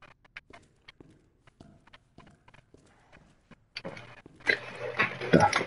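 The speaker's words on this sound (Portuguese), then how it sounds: "Olha, cavalinho." Horse hooves clip-clop at a walking pace in a PlayStation 4 video game, a run of distinct close steps that gives way to louder, denser game noise near the end.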